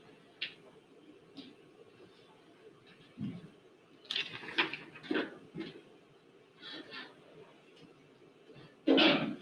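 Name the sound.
sneeze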